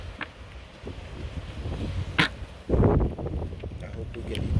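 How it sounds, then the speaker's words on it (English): Gusty wind buffets the microphone with rumbling bursts and rustling, swelling louder in places. "It's really windy today."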